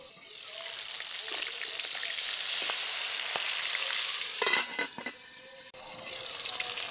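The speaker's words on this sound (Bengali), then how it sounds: "শিঙি মাছ কিন্তু একটু চাপা দিয়ে ভাজাই ভালো, তা না হলে কিন্তু যে কোনো সময় তেল ছিটকে যেতে পারে" Singhi fish fry in hot oil under a cover, producing a loud, steady sizzle with bursts of sharper crackling and spatter toward the end, alone and without speech.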